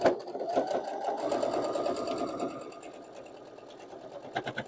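A sewing machine runs close and steady, stitching through stacked, bulky quilt block seams with a fast mechanical whir, then slows and trails off into a few faint clicks.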